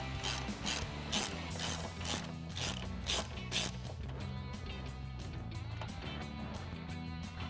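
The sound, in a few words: ratchet with 10mm socket removing airbox bolt on Mustang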